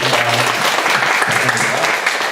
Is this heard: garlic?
no